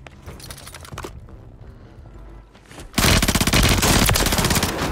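Video game gunfire on a rooftop firefight: quieter scattered shots and clatter at first, then a sudden loud burst of rapid automatic fire rattling continuously to the end.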